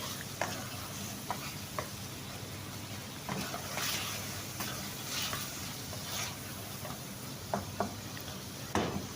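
A spoon stirs tomatoes sizzling in a pan over high heat, a steady hiss of frying with occasional scrapes and clinks against the pan, no voices.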